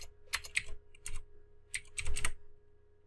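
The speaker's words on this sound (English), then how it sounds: "We'll just open up a new tab and watch what I type." Typing on a computer keyboard, several quick bursts of close, crisp key clicks with short pauses between them, no voices.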